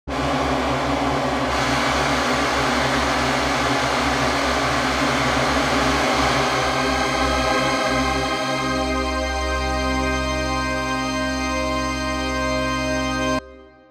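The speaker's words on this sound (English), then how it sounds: "The first patch that we have here is called the Mega Drone" A hand-built Mega Drone synthesizer patch stacking 1000 oscillators plays a dense, loud sustained drone with layered tones that gradually shift and settle into a steadier chord, running alone for about fourteen seconds before cutting off.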